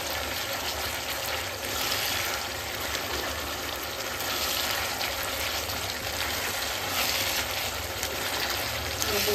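Chili sauce sizzles and crackles as it is stirred and fried in a pan for chili chicken, a continuous close frying hiss with small scraping accents and no talking.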